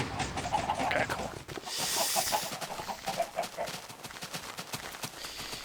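Chickens clucking and squawking in Minecraft, a busy stretch of repeated short clucks over steady game ambience, with several birds close together.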